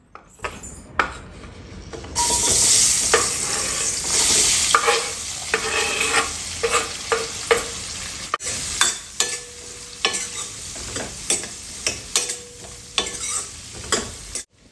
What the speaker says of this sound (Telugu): టూ బిగ్ సైజ్ ఆనియన్స్తో పాటు 4 పచ్చిమిర్చిని కూడా ఈ విధంగా కట్ చేసుకున్నాను. సో ఇప్పుడు వీటిని ఆయిల్లో వేసేసుకుందాం.